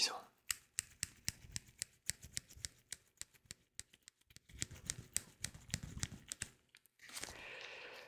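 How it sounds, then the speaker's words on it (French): Scissors snip hair during an at-home haircut, a rapid series of close, crisp clicks with a short pause, ending in a softer rustle. "je vais prendre mon autre paire de ciseaux."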